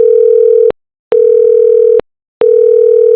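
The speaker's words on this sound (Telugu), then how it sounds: "అయితే ఒక్కసారి ఫోన్ చేసి చూడు." A telephone ringback tone sounds while a call is being placed, giving three steady, loud beeps with short silent gaps between them and no other sound.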